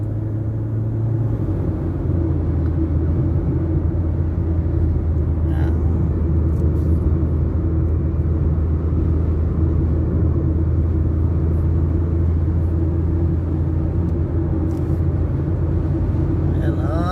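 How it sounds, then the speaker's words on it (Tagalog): A large truck rumbling past during a sandstorm, a heavy, continuous low engine and road rumble that stays loud and steady for the whole stretch, with a gritty, windy hiss layered on top. "Ay dako, lalaki ng truck."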